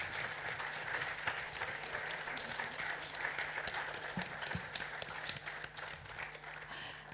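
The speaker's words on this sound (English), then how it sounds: "I need a resounding applause for Michael-Ugwu" Sustained audience applause at a business series event, a broad steady wash of many hands clapping for several seconds, moderately distant, with faint voices underneath.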